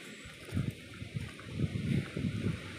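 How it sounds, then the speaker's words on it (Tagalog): Strong gusting wind outdoors near water where ducks and a bird on a branch are, a steady rushing roar with low buffeting surges against the microphone, repeating every half second or so. "malakas yung hangin."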